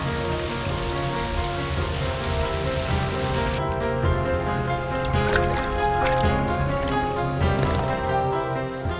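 Steady rain falls on a forested mountaintop wetland on Jeju Island, a dense continuous hiss with close drops pattering on water and leaves throughout, no voices.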